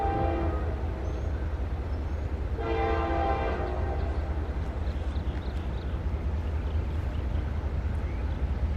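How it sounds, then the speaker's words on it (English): Steady low rumble of a CSX rock hopper freight train rolling past, with two long horn blasts near the start over the continuous clatter. "Second pass on the rock hopper train."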